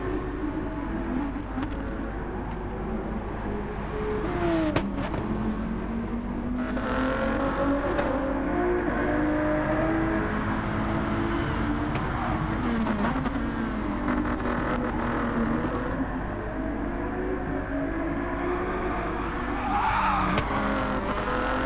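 Race cars in Gran Turismo 7, a Ford and a Peugeot, battle wheel to wheel with fender rubbing; engines drone and rev continuously, with squealing tires and shifting pitch as they fight for position.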